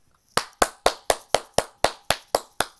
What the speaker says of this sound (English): Okay, I gotta clap.